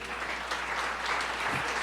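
A church congregation applauds together, a steady dense wash of many hands clapping at even loudness from start to finish, with no voices standing out.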